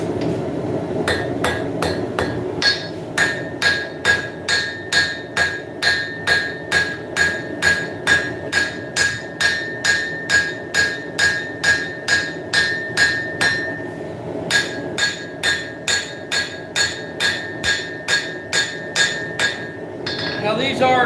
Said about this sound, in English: now it's time for hand forging